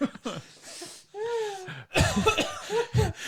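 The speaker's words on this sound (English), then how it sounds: "Now he's gonna have a cough again" Several harsh coughs burst out close by, mixed with laughter and excited voices, after a brief squeaky vocal sound.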